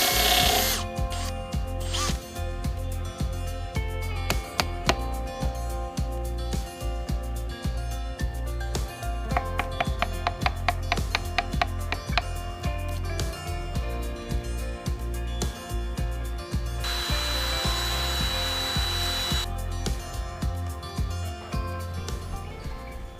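A power drill boring into timber for a Japanese joinery timber-frame house foundation, its motor whining steadily with repeated bursts, rhythmic clicks and a brief louder grinding stretch.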